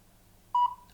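A recordable buzzer button gives one short, clear electronic beep that starts abruptly, holds briefly and fades, heard alone over faint background hum.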